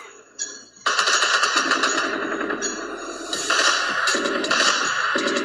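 Rapid gunfire rattles in sustained bursts, loud and continuous after a brief quieter start, playing back from a recorded video with no voices over it.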